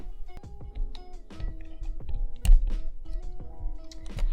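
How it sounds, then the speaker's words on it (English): Chromebook keyboard being pried off and lifted from the laptop body during a repair, giving a string of sharp plastic clicks and thunks at irregular intervals, close and moderately loud, with one louder snap midway. "There we go, I took the keyboard off."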